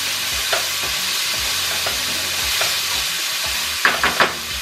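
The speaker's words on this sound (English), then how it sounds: "you're gonna give that a stir" Washed rice is stirred in a pot with garlic and onions in a steady sizzle, with rhythmic scraping strokes of the spoon and a few sharper clinks near the end.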